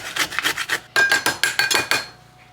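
Zucchini is grated by hand on a grater in a quick run of rhythmic rasping strokes, close and fairly loud, with a brief pause partway through.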